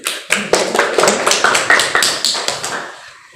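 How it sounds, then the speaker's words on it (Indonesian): Classroom applause, a run of sharp, rhythmic hand claps in unison, loud and close, beating at a steady pace before stopping short. "Tepuk tangan dulu."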